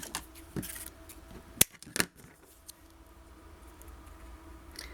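Scissors snipping quilling paper strips for a small interactive album, a few sharp close cuts clustered near the start over quiet room tone, with no talk.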